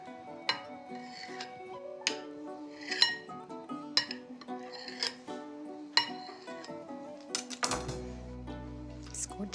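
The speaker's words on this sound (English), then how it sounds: "I'm just going to chop that on the plate into little pieces." A knife chopping silken tofu on a plate for shabu shabu, a series of sharp taps and clinks in an irregular rhythm, close and fairly clear, with a louder clatter near the end.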